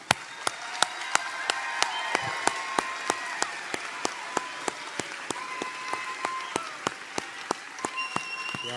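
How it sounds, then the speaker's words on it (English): Sustained applause from a large crowd at a graduation convocation, steady and fairly loud, with sharp periodic clicks or beeps cutting through at regular intervals. "Let's have one more round of applause for our graduates."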